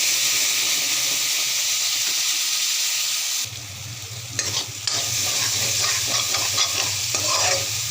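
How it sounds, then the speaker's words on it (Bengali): Bay leaf and radhuni seeds crackle in oil. Then a spice paste drops in, and the hot pan gives a sudden, louder, hissing sizzle with a low roar. Stirring scrapes follow in the steamy frying noise. "রাঁধুনি বিচি ফোড়ন দিয়ে দেব তেজপাতা মিশিয়ে রেখেছিলাম মশলাটা দিয়ে দেব"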